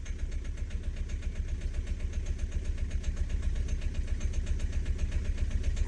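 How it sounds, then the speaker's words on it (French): The 1.5 dCi diesel engine of a Renault Clio 3 with a starting problem idles steadily, a low, even rumble that pulses in rhythm, close by with no voices. "Là, le moteur est en marche."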